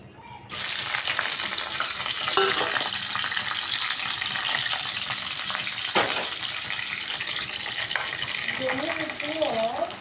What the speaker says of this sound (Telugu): నేనైతే ఇప్పుడైతే చికెన్ ఫ్రై అయితే చేస్తున్నాను